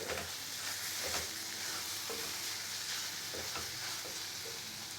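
Ponnaganti greens cooked with onion chili paste fry in a pan with oil, giving a steady close sizzle and crackle, with occasional scrapes and stirs throughout.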